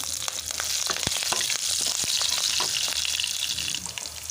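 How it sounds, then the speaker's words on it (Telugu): Loud, steady sizzling of green chilies frying in hot oil, with brief crackles and pops throughout and no voices. "ఆయిల్లో మంచిగా వేగిన తర్వాత ఇందులోకి పచ్చిమిర్చిని యాడ్ చేసుకోవాలి"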